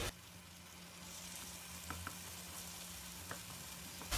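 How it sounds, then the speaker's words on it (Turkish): Eggs fry gently in a pan for Turkish menemen, a soft, steady sizzle with a few faint pops and light taps, quiet and close, with no voices. "Önce melemenin yumurtasının beyazını pişireceğiz."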